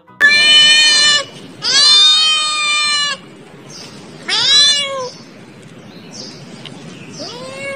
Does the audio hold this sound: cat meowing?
yes